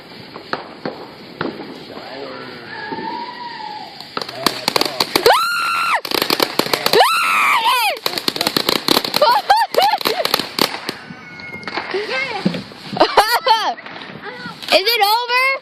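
Fireworks bursting in the dark, with sharp bangs and crackling volleys coming in irregular clusters and whistling rises, fairly close and loud, while people chatter throughout.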